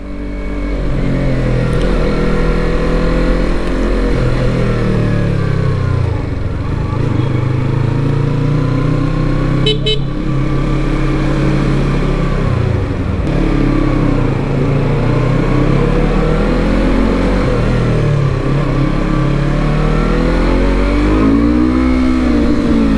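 A Yamaha R25 motorcycle engine revs steadily and loudly up close, its pitch rising and falling in repeated throttle blips over a continuous idle rumble.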